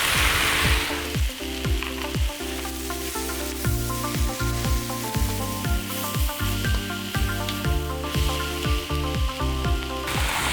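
Choy sum and napa cabbage stir-fried for Shanghai noodles in a hot wok, a loud steady sizzle with repeated clattering tosses and scrapes of the utensil throughout, no talking.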